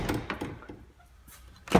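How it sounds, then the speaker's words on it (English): The rear door of a 2014 Volkswagen Transporter T5 van is handled, giving a few mechanical clunks and a latch thunk near the end, close and moderately loud. "I'll open both the doors"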